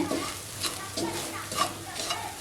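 A spoon stirs a coarsely ground tamarind seed mixture in a pan over a low flame, giving soft repeated scraping strokes over a gentle sizzle, steady and close.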